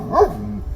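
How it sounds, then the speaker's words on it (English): A guard dog gives one short, sharp bark close by, loud and alone, then a low rumble trails off. "That's when her guard dog snapped into action."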